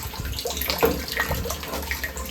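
Water pours steadily into a rain barrel made from a repurposed olive barrel, a continuous splashing and gurgling at close range.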